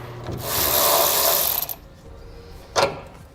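Ratchet loosening a 12mm nut under a 2014 Toyota Tundra, a fast buzzing run of clicks followed by a single short sharp click later, close to the microphone with no talking.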